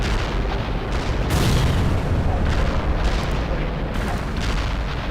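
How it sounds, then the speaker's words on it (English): An artillery barrage pounds a target area in World in Conflict, with continuous heavy explosions rumbling one into the next, loud and dense, with deep booms layered under crackling debris. "Artillery barrage turned the target area into dust"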